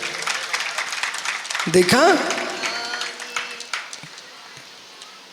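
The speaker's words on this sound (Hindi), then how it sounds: "पूरी सभा ने ताली बजाई" A seated audience at a Hindi religious discourse claps for a child's recited Sanskrit verse, a patter of scattered applause heard under someone speaking before it fades out.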